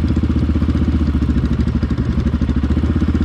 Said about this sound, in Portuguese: Acelera um pouquinho mais, Brian, pra arrancar